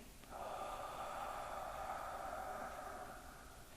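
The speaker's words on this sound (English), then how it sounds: "let's go ahead and take a deep breath in" A single long, steady inhalation through the nose, close and fairly loud, drawn in during a seated meditation and lasting a few seconds with no talk over it.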